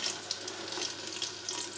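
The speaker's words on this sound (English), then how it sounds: "And this is where we add the water" Water, a smoked gammon stock, is poured into a pot for courgette, bacon and cheese soup, giving a brief, fairly quiet, steady splashing trickle with no talking.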